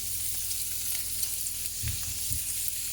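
Cauliflower steaks and shallots sautéing in a pan give a steady, bright sizzling hiss with a faint low hum beneath and a couple of soft knocks near the end.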